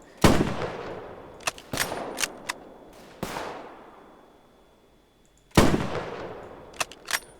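Sniper rifle fire in the Roblox war game Guerre de l'Est, a handful of sharp loud cracks spaced irregularly over several seconds, each followed by a decaying echo, mixed with fainter distant shots.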